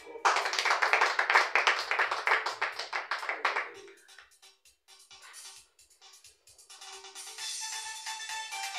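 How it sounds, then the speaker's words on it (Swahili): A church congregation claps for Jesus in dense, rhythmic applause for several seconds, then it fades to scattered taps. Voices murmur and talk underneath. "Pigia Yesu makofi."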